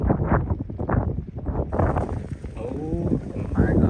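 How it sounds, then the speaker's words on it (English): Strong wind buffets a microphone outdoors near the water, heavy low rumbling gusts pulsing throughout while a person talks over the noise. "but it's so windy right now."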